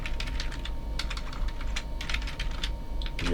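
Rapid typing on a computer keyboard, a steady stream of close, crisp key clicks with brief pauses, alone against a constant background hum.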